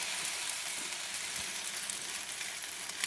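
Slices of leftover cake dipped as French toast sizzle steadily in a hot pan, a continuous close, even frying hiss with no voices.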